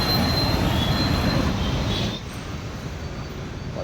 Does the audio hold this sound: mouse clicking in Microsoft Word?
no